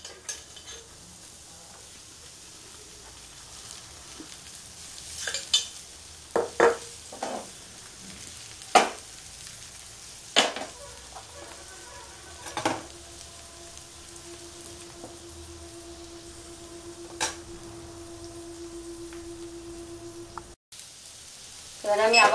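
Chita pitha cooking in a pan with a little oil drizzled over the top, giving a soft steady sizzle with scattered sharp clicks and scrapes, plus one sustained tone midway.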